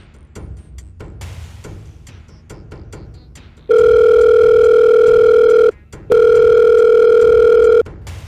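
Steady telephone dial tone heard while calling from a mobile phone, a loud continuous hum in two long stretches separated by a short gap, preceded by quieter room noise.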